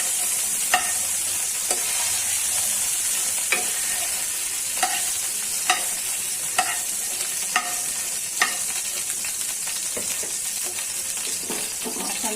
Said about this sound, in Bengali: এখন চিংড়ি মাছটা তেলে দিয়ে দিচ্ছি।